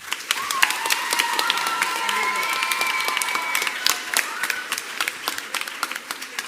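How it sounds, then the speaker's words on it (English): Middle school pops concert audience applauding the student soloists, a lively mix of crisp individual claps and crowd noise with a few cheers and a sustained whistle over the top, tapering into scattered claps at the end. "Another round of applause for our soloists"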